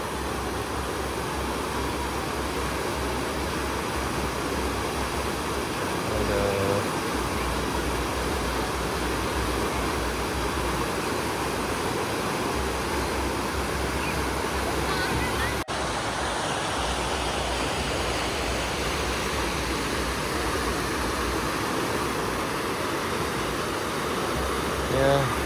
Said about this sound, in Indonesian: Dan arus sungainya cukup deras sekali.